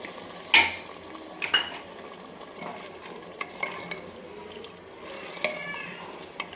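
A metal spoon stirs mutton and toasted rice in a pot for biryani, with a sharp clank at the start, then scraping, wet stirring sounds and light knocks against the pot, close and without talk.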